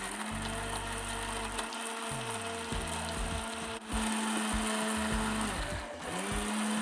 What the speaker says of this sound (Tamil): இப்போ சட்னி அரைச்சி எடுத்துக்கலாம்.